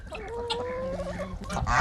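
Geese honking and clucking close by while they peck at watermelon, a short stretch of overlapping nasal calls with poultry noise, no talking.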